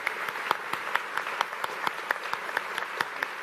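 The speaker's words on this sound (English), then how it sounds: "please, a round of applause for our speakers." Audience applause for speakers at the Frontier Expo 2017 main stage, a steady patter of many hands clapping in a large hall, moderately distant and without talk.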